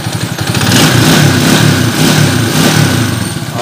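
A motorcycle engine, just after a tune-up that cured a chirping fault, runs loud and close with a steady throbbing roar that swells slightly as it revs, with no talk over it.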